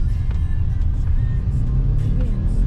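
Steady low engine and road rumble from a Toyota Avanza E CVT being driven, a continuous close interior drone with no talk.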